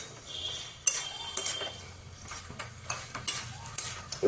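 Potatoes stir-fried in a pan for a Bengali bhetki fish-bone chochchori give a low sizzle under scattered spatula scrapes and sharp metallic clinks against the pan, close by, with no talking.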